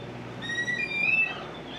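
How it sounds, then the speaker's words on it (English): An oystercatcher on the Seattle waterfront gives a thin, high, piping whistle that rises and wavers for about a second over faint background ambience. "it's an oyster catcher"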